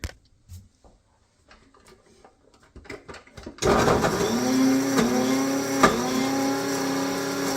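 Coffee bean grinder chopping chunks of bread into breadcrumbs: faint knocks and handling come first, then the motor kicks in with a loud, steady whirring buzz that runs to the end with small bumps.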